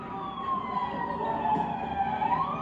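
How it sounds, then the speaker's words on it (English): A police car siren wails steadily nearby during looting in the street, a loud sustained tone slowly rising and falling over traffic rumble. "Oh, you hear the police?"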